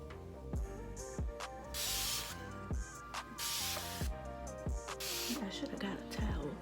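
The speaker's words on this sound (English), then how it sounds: "I'm just spraying this water" A spray bottle of water lets out several short hissing bursts at irregular intervals while a person talks nearby.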